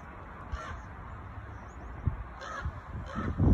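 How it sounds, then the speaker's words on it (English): A crow caws several times at a distance, its harsh calls faint over steady outdoor background noise. "Big old crow flying around."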